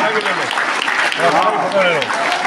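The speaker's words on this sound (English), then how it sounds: "Give yourselves a big round of applause." A seminar audience on the final day of a Millionaire Mind Intensive event breaks into a burst of loud, dense clapping that fills the room, while a voice talks over it.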